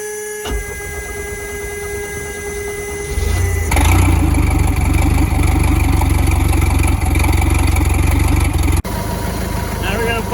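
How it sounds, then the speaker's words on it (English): A 1976 Mercruiser 2.5L inboard/outboard boat engine on a Starcraft starts and settles into a loud, steady idle, its low rumble continuing evenly close by, with a brief dip near the end. "let's fire that motor up and get it warmed up"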